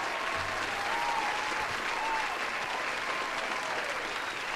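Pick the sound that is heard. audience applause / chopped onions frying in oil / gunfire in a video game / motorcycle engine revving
audience applause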